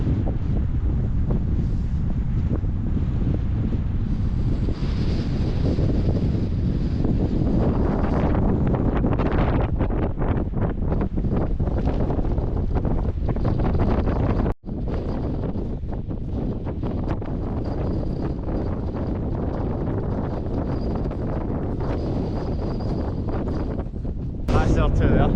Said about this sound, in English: It's pretty blustery though.